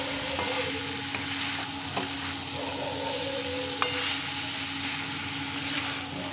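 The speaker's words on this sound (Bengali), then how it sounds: "এবার নেড়ে চেড়ে আরও হবে। এটা বেশ ভাজা ভাজা হয়ে যায়।" Small mourala fish frying and being stirred in a pan, a steady close sizzle with occasional clicks and scrapes of the spatula against the metal, no voices.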